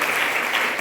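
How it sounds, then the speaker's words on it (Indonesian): A church congregation breaks into loud, dense applause, a steady wash of many hands clapping together at close range during a sermon. "Tepuk tangan, saudara."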